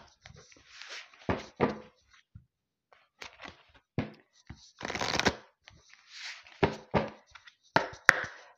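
Oracle cards being shuffled by hand in a series of short, crisp riffling bursts and soft taps, fairly close and moderately quiet, with pauses between bursts and no talking.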